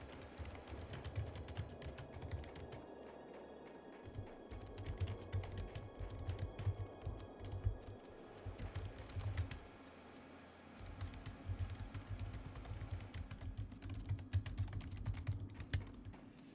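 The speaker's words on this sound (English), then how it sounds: "Just going to type that in that guild chat." Steady typing on a computer keyboard while entering a guild chat message in a World of Warcraft Classic Hardcore session, a continuous rapid patter of key clicks running for the whole stretch over a low background hum, with no talking.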